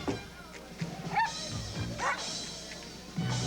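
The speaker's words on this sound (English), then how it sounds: "Dogs." Dogs bark and yip in a Bud Light beer TV commercial, with a few short sharp barks and whimpers at moderate distance, mixed with brief voices.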